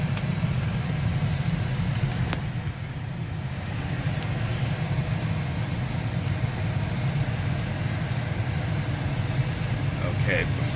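Interior of a 2019 Tesla Model 3 Long Range Dual Motor electric car pulling away and driving, with steady low road and tyre rumble throughout and speech over it.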